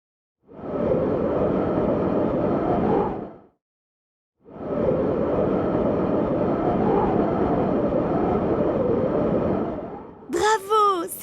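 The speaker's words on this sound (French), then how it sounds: "C'est le bruit du vent." Two long gusts of wind rush past, each swelling and dying away, the first brief and the second longer. A short bright sound follows at the end.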